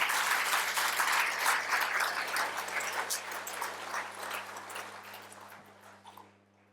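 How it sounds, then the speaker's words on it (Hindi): An audience at a yoga talk given by Swami Ramdev claps for itself, a dense round of applause that starts strong, gradually thins and fades out to near silence. "अपने लिए ताली बजाओ आप तो।"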